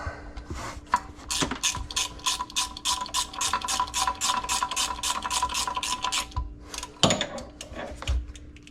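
Ratchet wrench loosening the crank pulley bolts on a 1986 Camaro Z28, a close, fast run of rhythmic clicking strokes over a steady hum, with short pauses and a clunk between bursts.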